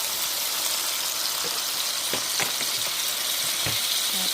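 Marinated chicken sautéing in a pan for Filipino chicken hamonado, a constant close sizzle with occasional sharper pops and stirring clatters.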